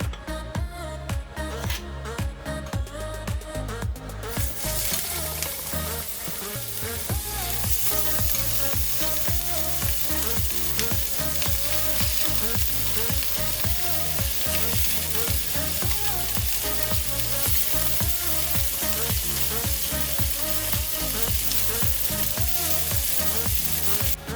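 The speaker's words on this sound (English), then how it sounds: "just cook your beef through like normal" Beef seasoned with pepper sizzles in a pan for a stir-fry with broccoli, making a loud, continuous crackling fry that grows denser after the first few seconds and runs unbroken with no talking.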